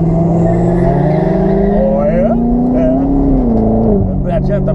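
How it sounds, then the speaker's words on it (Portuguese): Cars including an Opel and a Jetta rev their engines on a city street outside a nightclub, a loud droning roar rising in pitch with surging revs, while someone talks over it. "Os caras tudo acelerando."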